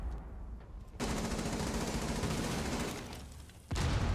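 Video game firefight with a grenade: a sustained burst of loud rapid gunfire and blast noise, stopping briefly near the end before another loud burst begins.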